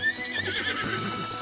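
A donkey in Tears of the Kingdom brays close by, a loud braying call with a horse-like whinny and faint hoof clops over about a second and a half, no talk.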